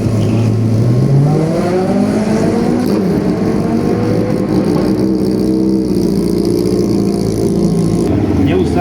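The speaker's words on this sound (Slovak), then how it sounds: "Pokračujeme číslom 9, to je Aleš Mlejnek na Glórii VE6S." A Gloria VE6S race car at the Pezinská Baba hill climb drives loudly past with a rising, then sustained engine note, as an announcer talks over it.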